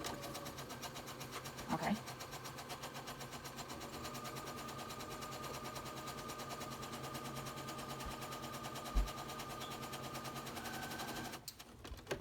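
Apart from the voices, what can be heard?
sewing machine stitching fabric face mask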